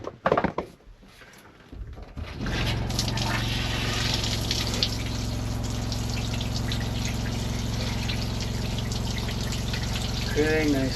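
An RV shower tap runs pink antifreeze during winterizing: after a couple of quiet seconds with small handling knocks, a steady close gush of liquid with a pump hum continues to the end.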